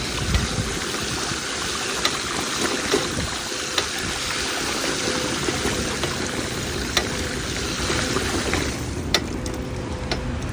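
Heavy rain pouring in Dammam, Saudi Arabia, a dense continuous wash of falling water with scattered drips and splashes, steady and close throughout.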